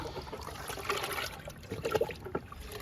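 Liquid fertilizer poured onto a climbing bean plant trickles and splashes softly, a faint continuous dribble with a few louder splatters near the end, close and alone.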